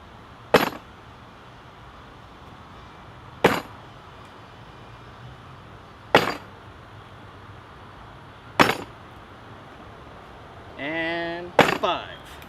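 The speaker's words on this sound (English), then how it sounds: "I'll be striking here with the tip and prying left and right," The tip of a Cold Steel SRK Carbon V knife strikes a hard surface and pries, five sharp separate impacts spaced a few seconds apart, with a brief scraping creak just before the last strike.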